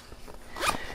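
A zipper being pulled along one of the two side pouches of a backcountry camera backpack, a single quick rasping run that swells near the end, close and alone.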